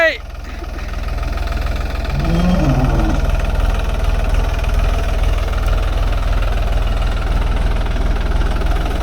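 Close and loud, a tractor engine keeps running as its front end lifts off the ground on a farm, a steady low rumbling throb with a brief rise in engine note early on.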